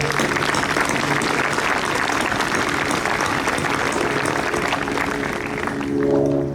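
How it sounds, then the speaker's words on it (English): Audience applause at a commencement ceremony, a dense, steady roar of many hands clapping that holds for several seconds before easing off slightly at the end. "Let's have a round of applause for you guys."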